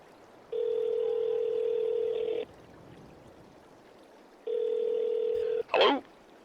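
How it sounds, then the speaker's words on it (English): Telephone ringback tone when placing a call, two long steady buzzing tones separated by a pause, followed by a brief click as the line is picked up. "let's give him a call."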